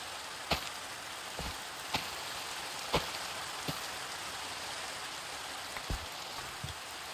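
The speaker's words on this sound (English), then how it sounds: "It started to rain." Rain falls steadily in a farming survival video game, a constant soft hiss with scattered louder droplet ticks spread across the stretch, no voices.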